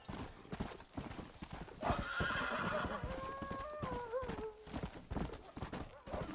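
Horse hooves clip-clop at a gallop in the western video game Red Dead Redemption, with a horse whinnying partway through, a steady rhythmic beat close by under game sound.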